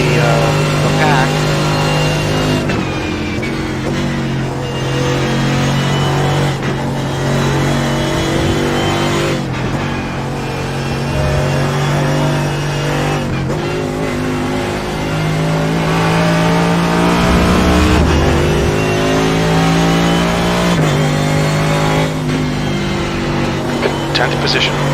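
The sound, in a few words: race car engine in iRacing video game, Canadian Tire Motorsports Park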